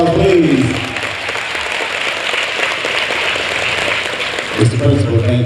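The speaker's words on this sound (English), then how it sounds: "Can we give him another round of applause, please?" Audience applause at a middle school symposium at Chandler Park Academy, a steady broadband wash of clapping filling the clip, with voices talking over its start and end.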